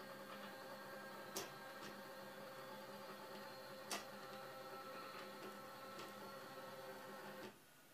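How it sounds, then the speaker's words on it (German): Print head and cutting mechanism of a wide-format printer installation travel toward their end switches, a steady mechanical whir with a few sharp clicks before the motion stops near the end. "Wird danach die linke Taste gedrückt, so fahren Druckkopf und Schneidemechanismus zu den Endschaltern."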